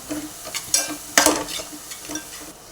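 Red chili powder, turmeric and salt sautéed into a ground masala paste in a pan for an Agri-style crab curry, soft sizzling with a few sharp spoon scrapes and stirs, close and fairly quiet.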